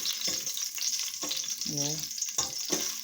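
Goat meat frying in a pan with four cloves of garlic and thyme, a bright continuous sizzle with periodic stirring scrapes, close up, while a voice briefly speaks over it.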